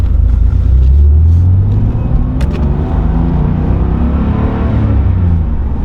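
Steady, loud low rumble of a 1993 Porsche 911 Jubilee engine while driving, heard from inside the car as a continuous drone with a few faint clicks.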